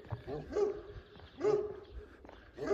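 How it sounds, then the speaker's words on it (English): Several dogs bark close by, with three loud barks spaced roughly a second apart and a short whine between them. "As soon as I start talking, all the dogs come out."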